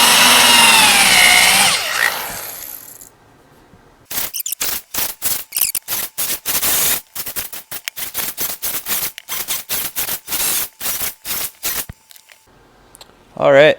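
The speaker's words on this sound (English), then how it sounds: "you can see now that these holes are pretty drilled out" A power drill bores holes into a maple log being prepared for mushroom plug spawn, loud and close in rapid bursts of whirring with short gaps between them, after a stretch of other noise at the start.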